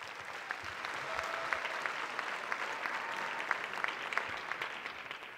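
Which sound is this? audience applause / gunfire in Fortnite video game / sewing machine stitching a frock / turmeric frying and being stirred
audience applause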